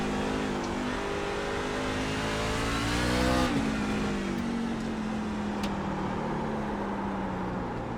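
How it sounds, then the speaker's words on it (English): Race car engine held at high revs while the car four-wheel slides into a corner: a loud sustained engine drone with a sharp pitch drop as it brakes, then tire scrub under steady motor noise. "Just four-wheel slide into the corner."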